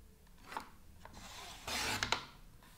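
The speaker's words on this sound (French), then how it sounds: "je vais découper mon rond juste au-dessus de la ligne" Scissors cut out a paper circle in a few short, dry snips and rasping strokes, close and quiet, with a longer rubbing cut near the end.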